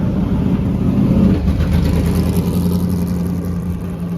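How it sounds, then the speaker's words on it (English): A Mazda FC RX-7 IMSA GTO race car with a rotary engine drones loudly and steadily at a car event, a dense mid-pitched engine roar with slight rises and no talk over it. "That rotary engine cannot be topped."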